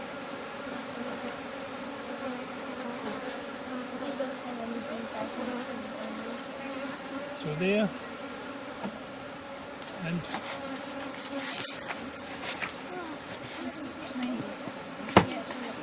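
Steady buzzing of bees fills the air throughout, with brief bits of talk and a few sharp bumps and rustles near the end.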